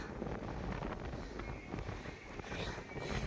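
Steady wind on a hilltop roars and buffets against the microphone, a continuous rushing gust with no voices.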